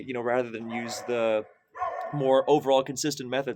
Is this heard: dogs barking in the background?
yes